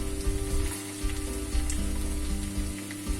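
Six grated-potato hash browns (rösti) fry in a pan over medium heat with a steady, crackling sizzle that continues throughout, with no voices.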